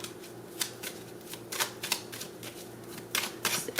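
Gypsy Oracle cards are handled and shuffled, a series of crisp riffling bursts and soft flicks in an irregular rhythm, close and fairly quiet.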